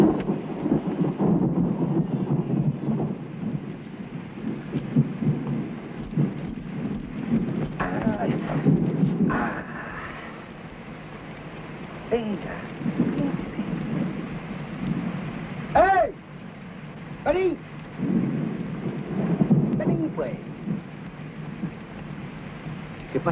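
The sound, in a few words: thunderstorm with rain, horse hooves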